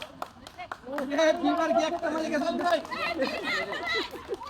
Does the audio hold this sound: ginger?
no